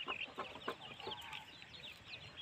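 Hmong village chickens cluck at dusk, soft low clucks and short calls from several birds nearby, fairly faint and continuous with no talking.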